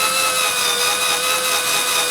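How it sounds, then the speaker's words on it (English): Cordless drill boring a hole, a loud, steady high-pitched motor whine with grinding bite into the material, continuous for a couple of seconds with no voices. "And that's how you drill a perfect hole."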